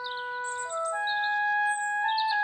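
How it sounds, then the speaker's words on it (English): A little cartoon bird sings a bright, clear whistled song of sustained pure tones that step between pitches, with light high chirps layered on top, loud and close. "it's so lovely to wake up to the song of a little bird"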